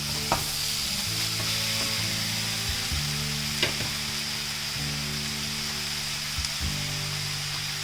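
Vegetables sautéed in a pan for American chopsuey with a steady loud sizzle of hot oil under repeated rhythmic stirring and tossing strokes, close and continuous, with no talking.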